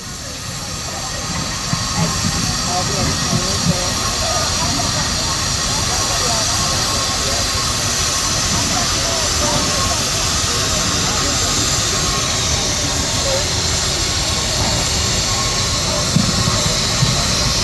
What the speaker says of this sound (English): This Fowler Road engine was built in 1914